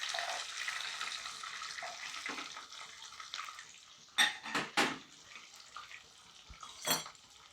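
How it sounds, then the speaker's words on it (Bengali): Boiled rice poured gradually into hot oil for ghee rice sizzles and hisses steadily, with a few sharper spattering bursts and utensil clinks partway through. "এবার যে সেদ্ধ করা ভাতটা আছে সেটা আস্তে আস্তে তেলের ওপর দিয়ে দিন"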